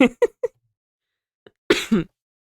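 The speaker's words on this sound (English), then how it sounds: "I still have a tiny bit of a cough, by the way" A person gives a few short, sharp coughs up close in quick succession, then after a pause a single faint hack and a final heavier double cough.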